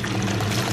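Water pours from a tap into a bath, a steady close rushing splash that carries on without a break through the short stretch.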